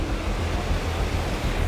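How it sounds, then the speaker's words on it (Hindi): Water rushes hard over rocks at Belapur waterfall, a dense, loud, continuous roar close by with steady wind-like hiss and no talking. "ये देखो इतना जोर से पानी फ्लो हो रहा है,"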